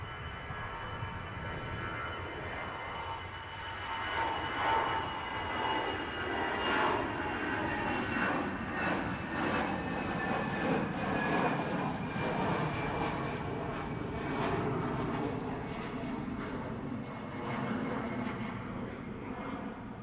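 An airliner rolls down the runway for takeoff at Manchester Airport, a steady loud engine roar building and sustained throughout with broadband rumble and whine.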